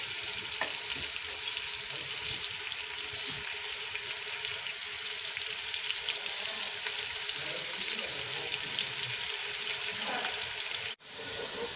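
Onions frying in a pan, a steady loud hissing sizzle that runs throughout with faint stirring clicks, ending in a brief cut near the end.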